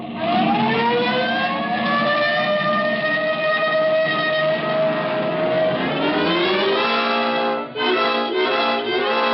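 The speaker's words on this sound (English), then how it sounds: "This time you can use the siren." A loud police car siren in a classic detective radio drama wails steadily with a rising and falling tone, close and continuous, then breaks into a few quick stuttering pulses near the end.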